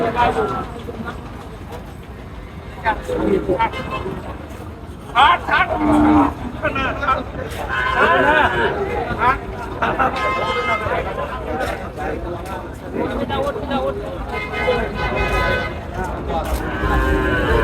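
Cattle, mostly cows and calves, moo repeatedly, close and loud, over a busy crowd of people chattering at a livestock market in Chapainawabganj, Bangladesh.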